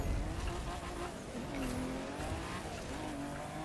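In a racing video game, the Lucky Dragon car's engine drones and sweeps up and down in pitch through gear changes and corners, with a faint tyre squeal. The engine runs continuously and no one speaks.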